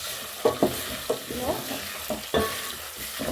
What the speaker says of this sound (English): Just frying it a little, not too much